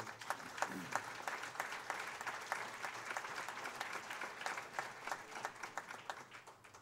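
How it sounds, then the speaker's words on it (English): An audience claps together in a sustained round of applause, with individual claps distinct through the wash, heard at moderate distance and tapering slightly toward the end. "They deserve a round of applause just as much as I do."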